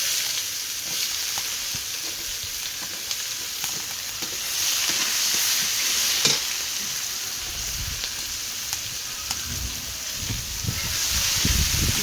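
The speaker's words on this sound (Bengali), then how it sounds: "ভালো করে লাল লাল করে পেঁয়াজগুলো ভেজে নেব।" Chopped onions fry in hot oil with cumin, black pepper, cardamom, cloves and cinnamon in a pan in a village kitchen, giving a steady close sizzle with occasional scraping stir strokes throughout.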